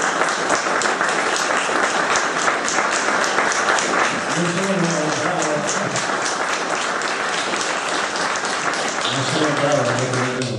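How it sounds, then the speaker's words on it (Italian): A crowd applauds in a dense, sustained wash of clapping while voices rise and carry over the top throughout. "Io adesso quindi propongo adesso un bel applauso scrosciante per Corrado, per Rita."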